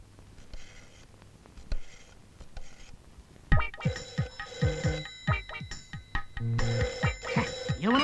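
A telephone rings repeatedly during a comedy scene, its bursts of ringing starting quiet and sparse, then growing louder and more frequent over several seconds.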